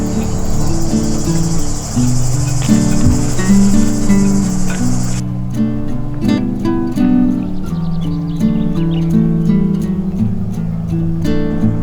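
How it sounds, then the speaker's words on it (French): Dense, loud cicada chorus of early summer near a beach path on Port-Cros, a continuous buzzing drone with pulsing trills throughout, close and unbroken, no voices. "C'est le début de l'été et les cigales sont au rendez-vous."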